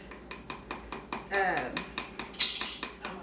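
Jiffy cornbread batter mixed straight in an oiled pan, a rhythmic series of close utensil taps and scrapes against metal, about three strokes per second, with a few louder clinks.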